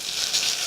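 Chopped garlic and onion frying in a cooking pan, a steady, even sizzle that is fairly loud and close and continues without pause.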